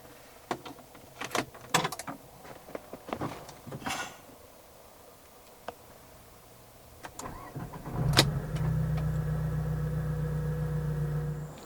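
Clicks and clunks inside a 2010 Alfa Romeo 159 2.2 JTS with the door closed, then the engine cranks and catches, settling into a steady idle hum that continues to the end.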